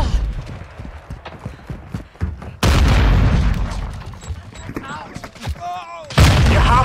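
A frag grenade goes off in Call of Duty MWII online multiplayer, a loud broadband blast partway through, then rumbling debris. Scattered gunfire and other game effects come before and after it.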